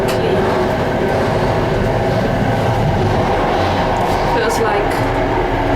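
Inside a moving old Soviet-era train in Poland, a loud, steady rumble and rattling clatter of the carriage carries on without a break, with a muffled voice blending into the noise.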